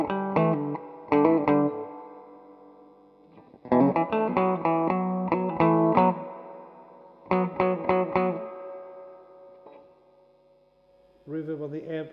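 Electric guitar played through an amplifier's built-in reverb, with strummed chords in bursts separated by pauses, each ringing out into a lingering wash of reverberation.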